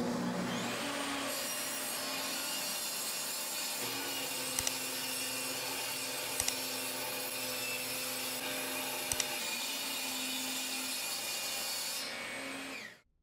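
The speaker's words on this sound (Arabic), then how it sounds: "هبدا بقى اظبط الدليل وارتفاع المنشار واقص" A table saw runs steadily through a wooden board, cutting its first side, for several seconds, a loud, continuous whining grind with a few brief clicks, then spins down.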